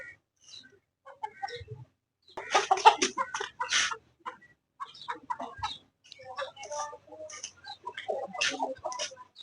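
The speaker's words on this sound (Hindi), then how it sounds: "ये रहे हमारे प्यारे प्यारे मुर्गे" Chickens and roosters clucking and calling near the microphone, with irregular bursts of clucks and squawks coming from several birds and no talk.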